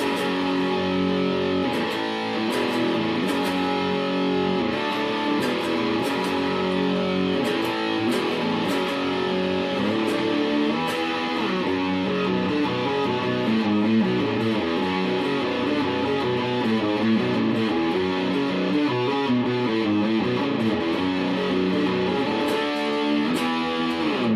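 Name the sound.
electric guitar through Orange Crush CR120c amp distortion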